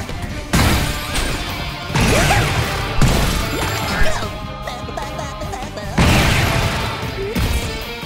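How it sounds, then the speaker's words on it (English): In the video game Splosion Man, the lab-escaping hero blows himself up repeatedly: a string of loud booming blasts and crashes at irregular intervals over a busy game soundtrack. "in Splosion Man we control this weird science experiment with the ability to explode himself repeatedly"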